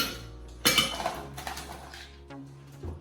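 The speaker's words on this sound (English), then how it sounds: "somewhere around 5 excellent ice cubes. Solid, no chips." About five solid ice cubes clatter and clink into a metal cocktail shaker in a brief burst while making a martini, then settle with small rattles; close and fairly quiet.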